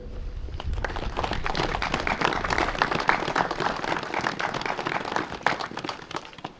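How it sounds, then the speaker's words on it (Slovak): A crowd at a Bloody Sunday commemoration claps steadily and fairly loudly, the dense patter of many hands holding for several seconds with no speech over it. "poprosím o veľký potlesk pre nich"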